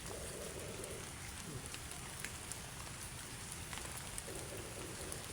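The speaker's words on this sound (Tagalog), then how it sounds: "Ayan guys, umuulan dito guys." Heavy rain falling outdoors near dark mountains ahead of a storm, a dense, steady hiss of drops, constant and fairly faint, with no talking.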